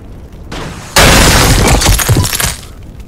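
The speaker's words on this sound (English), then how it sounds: "Yeah, that was a big freaking explosion." In the video game Xenonauts 2, a big explosion goes off: a softer rumble first, then a sudden loud blast with crackling, shattering debris that roars for over a second before fading.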